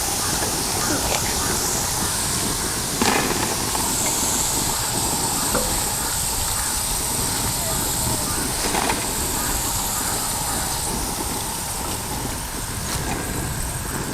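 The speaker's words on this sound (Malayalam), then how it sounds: "നമ്മുടെ സാധനം വറവറാന്ന് വറുത്ത് വന്നിട്ടുണ്ട്." Potatoes for spicy French fries deep-fry in hot oil, giving a loud, continuous sizzling hiss that stays steady throughout with small crackling bursts.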